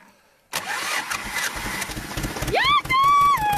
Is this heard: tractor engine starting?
yes